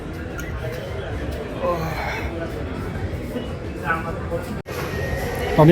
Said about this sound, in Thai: อันนี้รถไฟฟ้านะ